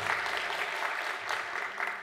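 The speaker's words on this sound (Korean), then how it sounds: "우리 어르신들을 향해서 우리 박수를 쳤으면 좋겠습니다." A church congregation claps together for its elders after a shared lunch, producing steady, dense applause that fills the room and stays even throughout.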